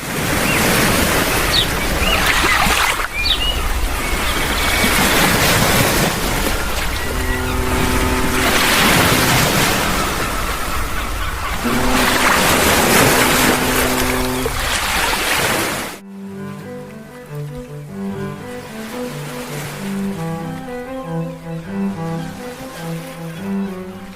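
A boat engine runs at sea under a steady wash of waves and wind, loud and continuous throughout, with the sea noise dropping away toward the end as a lower engine drone carries on.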